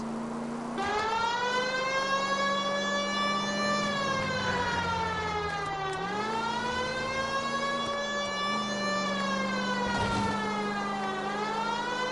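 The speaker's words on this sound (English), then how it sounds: "The siren, Cole, use it." A loud, continuous electronic police car siren from the video game L.A. Noire wails, sweeping up and down in long cycles, close and unbroken.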